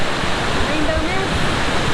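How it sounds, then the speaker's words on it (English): A large waterfall at Letchworth State Park roars as a steady, loud, broadband rush of falling water with no pauses, filling the whole moment. "Last waterfall stop of the trip."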